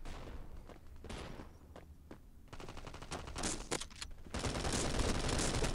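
Automatic rifle fire from a FAMAS in the shooter game Bullet Force, bursts of rapid shots with gaps between, then heavier sustained firing toward the end, close and fairly loud.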